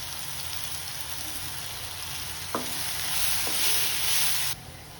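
Green chillies and curry leaves fry in hot oil in a pan for egg curry, giving a steady, loud, broadband sizzle with a couple of brief clicks partway through. The sizzle swells near the end, then drops off abruptly.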